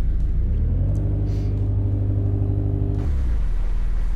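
Car engine running on the test path in Car Mechanic Simulator 2018: a loud, steady low idle rumble that rises in pitch and holds, then drops back sharply near the end, with no talk.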